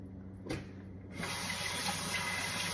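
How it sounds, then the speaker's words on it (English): A kitchen tap gives a brief splash, then opens fully into a steady, close gush of running water while hands are washed off after cleaning pork chitterlings. "let me wash this off right quick and dry my hands"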